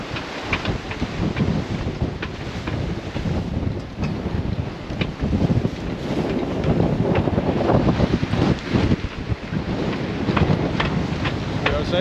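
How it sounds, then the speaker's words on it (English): Strong wind buffets a sailboat on the North Sea, a loud continuous roar of gusts and wind noise over rushing water, unbroken throughout. "A lot stronger wind today than was forecasted, like it normally is."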